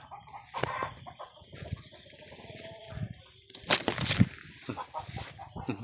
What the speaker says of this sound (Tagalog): Masyadong maingay yung mga manok dyan.